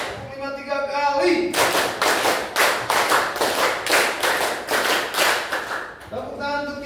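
Group hand clapping in a sixth-grade classroom pattern lesson: bursts of sharp claps in a counted rhythm, loud and close, bracketed by a voice speaking at the start and end.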